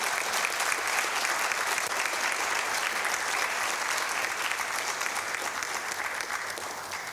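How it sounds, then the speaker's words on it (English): An audience at an international conference in Accra applauds steadily, a dense, even patter of many hands that carries on for several seconds without letup. "Another round of applause for him."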